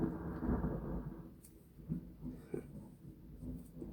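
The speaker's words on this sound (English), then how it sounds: "Ignore the thunder." Thunder from a real storm outside during a home recording: a low, rolling rumble that swells at the start and then fades into a softer, drawn-out growl, with small clicks and faint noises scattered over it.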